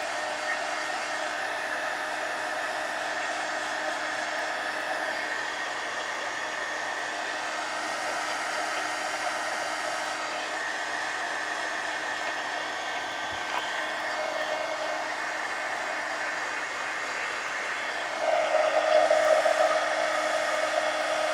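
A hair dryer blows steadily on thick paint on a camel figure, a constant close whooshing hum for the whole stretch that swells slightly louder near the end.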